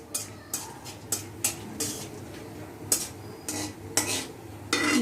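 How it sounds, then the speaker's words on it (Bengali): Nuts fry in a pan while a spatula scrapes and taps the metal in a steady, repeated rhythm, with a light sizzle beneath the clattering strokes. "বাদামগুলো ভাজা হয়ে গেছে।"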